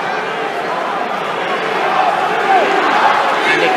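Boxing crowd at the Bernard Hopkins vs Sergey Kovalev fight, a loud dense roar of cheering that swells slightly toward the end, with a commentator's voice running over it.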